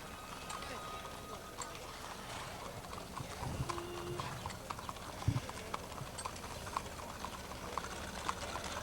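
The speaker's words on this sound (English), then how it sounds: "15 horses, all beautiful horses" Clip-clop of about fifteen horses, including a bay and a chestnut, parading at the 1981 Lake Park Centennial; steady hoofbeats under crowd murmur and a faint announcer voice.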